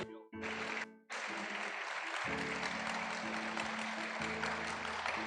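A church congregation applauds at a sermon about honoring parents, a dense broadband wash of clapping running steadily throughout, with sustained tonal music or organ underneath and a brief dip near the start.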